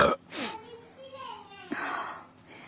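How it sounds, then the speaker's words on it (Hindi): A single short burp opens the clip, followed by someone speaking in Hindi in a comedic domestic skit. "दर्द में कुछ आराम से आया डकार आके"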